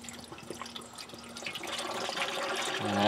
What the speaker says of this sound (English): Now, until we make sure this doesn't leak, we'll just run water.